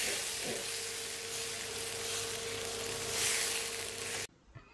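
Egg curry (kuzhambu) with tomato, onion and added water bubbling in a pan, a steady close sizzling simmer that cuts off abruptly near the end.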